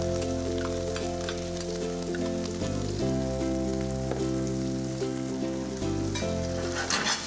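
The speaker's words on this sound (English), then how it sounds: "Now I will add the onions, sliced onions." Sliced onions fry in a pan with mutton masala, a steady sizzle running beneath a loud sustained tonal hum of music that dominates throughout; no one speaks.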